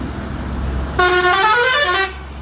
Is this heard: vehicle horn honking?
yes